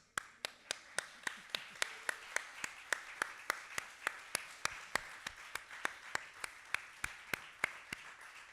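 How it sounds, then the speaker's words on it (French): Slow, evenly spaced claps at a cinema lecture event, sharp and distinct, repeating at a steady rhythm of roughly three per second for several seconds over a quiet room. "Tu veux les applaudissements ?"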